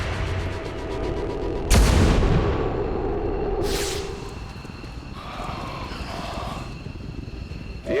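Reaction-fire gunshots in the XCOM 2 War of the Chosen video game, with a loud sharp blast followed by rumbling, echoing gunfire and further bursts over a steady game backdrop.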